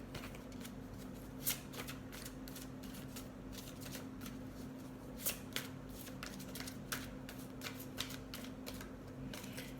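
Tarot cards are shuffled quietly and close by, a fast riffling flutter with a few sharper snaps and taps along the way.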